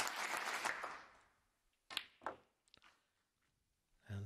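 Crowd applause at a snooker match at the Scottish Open, a burst of clapping that fades over about a second and a half, followed by a few scattered isolated claps and a soft thump near the end.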